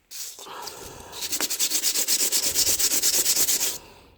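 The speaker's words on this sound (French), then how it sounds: "mes plaquettes que je frotte un petit coup" A brake pad from a Citroën Saxo 1.5D being rubbed on an abrasive surface to take off excess material: a run of rapid, even, loud rasping strokes close by, with no talk.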